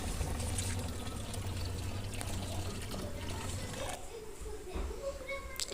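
Water is poured into a plant container in a terrace garden, a steady gush and trickle that runs for several seconds, with a little speech nearby.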